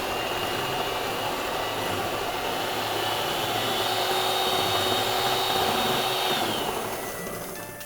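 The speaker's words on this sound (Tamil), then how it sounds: "இப்போ முட்டையோட வெள்ளைக்கருவை வந்து பீட் பண்ண போகிறோம்" An electric hand mixer whips egg whites with a little sugar toward soft peaks for a Christmas cake, giving a steady, loud whirring drone that holds throughout and fades slightly at the end, with no talking.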